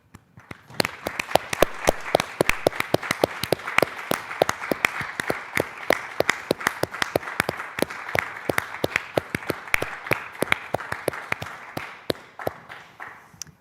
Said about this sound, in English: Please join me in a round of applause for Reuben.